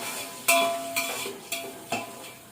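Garlic and peanuts fry in a hot pan, with a close, loud sizzle and four sharp scraping strokes of stirring at roughly half-second intervals.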